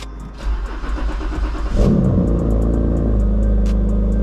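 A BMW E92 coupe's engine cranks and catches after a keyless fob start, jumping from a low idle rumble to a loud, steady, close-up idle.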